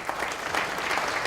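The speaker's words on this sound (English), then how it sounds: "So can you please just give yourselves a round of applause for being here today?" Brief burst of crowd applause at a Hawaiian Gardens State of the City event, dense clapping from many people at steady loudness.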